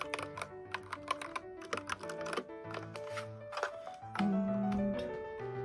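A computer keyboard from a Seventeen Wonwoo artist-made collection being typed on, a quick irregular patter of clacking keystrokes, close and moderately loud, with a low steady hum toward the end.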